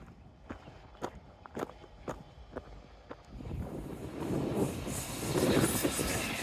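Footsteps tap at first, then a blue and green train rolls past on the Teignmouth seafront, its rumble and rattle building steadily and growing louder toward the end.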